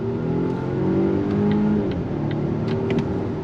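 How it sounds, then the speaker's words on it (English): A 2024 Volvo XC90 Recharge plug-in hybrid luxury SUV accelerates on throttle with a smooth, steady engine drone and a rising whir, heard from inside the vehicle, continuous and moderately loud with faint ticks on top. "we're going to go on throttle here"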